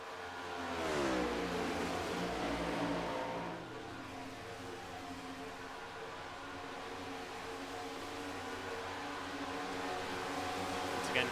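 Video-game NASCAR stock cars at Talladega roar by on the front stretch, one rising sweep up front and then a steady, fainter engine drone from the pack.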